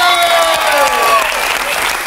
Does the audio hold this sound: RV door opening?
no